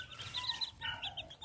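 Backyard chickens clucking while foraging on leaf litter mixed with rabbit droppings: several short, overlapping clucks and murmurs arrive in quick bursts, close by and fairly soft, with no talk.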